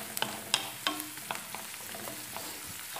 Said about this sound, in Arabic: كنحرك دائما كنحرك البصل ملي كيتشحر